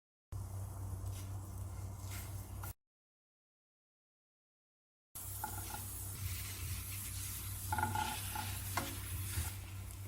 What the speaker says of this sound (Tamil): ஒவ்வொரு பக்கமாக திருப்பி விட்டு சுட்டு எடுத்துக்கலாம்.